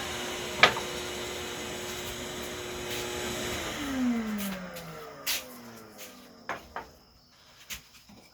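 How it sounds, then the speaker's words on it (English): A steady vacuum cleaner drone runs, then winds down and stops, followed by a few scattered clicks and knocks in the quiet. "I hope you could hear my talking with all that vacuum noise on."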